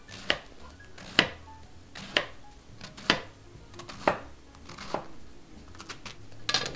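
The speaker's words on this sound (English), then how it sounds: "I'm going to take my cabbage here, just cut it in half, and cut into wedges here" A kitchen knife cuts a cabbage in half and then into wedges: about seven crisp chops land on a cutting board, roughly one per second, close and clear with no talking.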